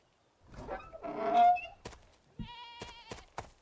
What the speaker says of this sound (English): I just heard the goat.